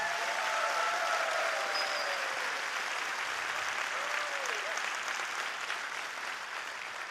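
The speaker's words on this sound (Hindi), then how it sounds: "जोरदार ताली अपने लीडर के लिए बजा सकते हैं आप" Steady audience applause at a member gathering fills the room for the leaders, a continuous loud patter of many clapping hands, with faint voices and cheers rising briefly over it.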